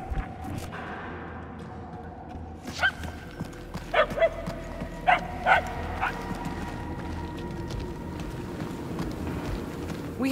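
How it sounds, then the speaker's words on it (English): A dog barking in a city street by a noodle shop in the video game Marvel's Guardians of the Galaxy, several sharp distant yaps over a low ambient game soundscape with footsteps. "The yapping is getting louder."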